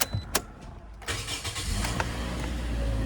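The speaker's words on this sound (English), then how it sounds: "I'm going to start the vehicle up." The 1.8 litre 4-cylinder engine of a 2015 Toyota Corolla sedan cranks with a few quick clicks, then catches and settles into a steady, smooth idle close by.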